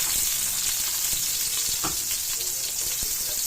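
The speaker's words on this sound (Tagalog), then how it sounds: "Ayan guys, mix natin guys ang sibuyas." Onions sizzle in hot oil with garlic in a pan, with a steady frying hiss under occasional scrapes and clinks of the stirring spoon, close by, with no talk.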